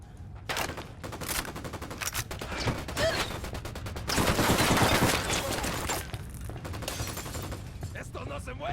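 Bursts of automatic gunfire in the video game Ghost Recon Wildlands, dense rattling volleys that swell loudest midway and continue with shorter bursts, with game voices mixed in.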